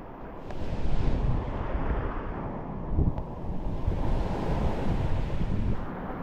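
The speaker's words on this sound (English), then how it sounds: "That's what happens when you go through the waves." Ocean waves breaking on an island beach, a loud continuous roar of surf with wind buffeting the microphone and surges of crashing water.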